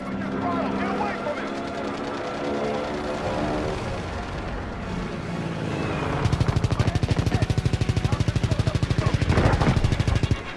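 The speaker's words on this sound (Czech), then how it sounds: "Tak to teďka bude přestřelka ve vzduchu." Call of Duty: WWII aerial shootout with rapid machine-gun bursts from aircraft, growing into dense, loud continuous rattling in the second half over engine drone, while someone talks over it.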